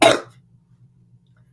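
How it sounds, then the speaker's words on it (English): A single sharp cough bursts out at the start, close and loud, then dies away into near silence with only a faint low hum behind it. "the cough sounds very bad"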